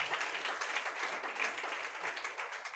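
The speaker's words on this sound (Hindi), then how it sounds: "ताली बजाओ एक बार परमेश्वर के लिए।" A church congregation at a Friday prayer meeting claps together, a dense sustained burst of many hands from a crowd across the room, steady and unbroken.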